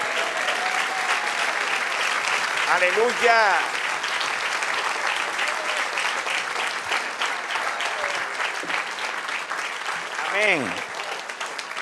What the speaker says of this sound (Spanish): Dele aplauso, alábele.